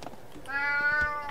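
A cat meows in the video game Alice: Madness Returns, one clear drawn-out mew that bends downward in pitch, close and alone over faint game ambience.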